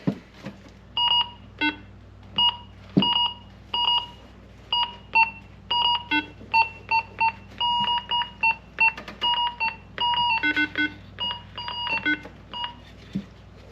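Electronic beeping from a mystery radio unit bought in a $5 box, a long run of short, evenly spaced tonal beeps with irregular gaps, close and fairly loud with no talking.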